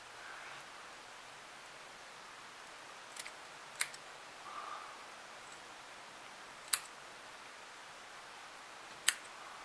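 Snips cut coil wire at the end on a GOAT RDA, a few sharp isolated clicks spaced seconds apart over quiet background hiss.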